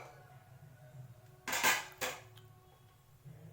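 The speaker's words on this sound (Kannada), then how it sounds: "ಕುಕ್ಕರ್ ಇಟ್ಕೋತಾ ಇದ್ದೀನಿ" A pressure cooker is set down on a stove in a home kitchen during chicken chops preparation, giving a short burst of loud metallic clattering and clanking midway through an otherwise quiet stretch.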